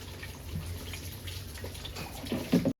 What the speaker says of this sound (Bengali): এখন জল ভরে নিয়ে নেব।